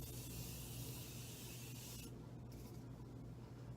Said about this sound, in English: So we just spray that all over.